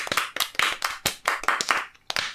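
A few people clap by hand, sharp, close claps in uneven bursts of quick strikes with short gaps between them.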